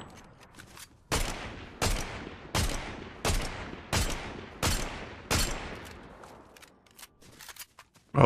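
Gunfire from a weapon in the video game Fortnite: seven loud, sharp shots spaced evenly about two-thirds of a second apart, each ringing out and fading, with a few faint clicks and taps before and after.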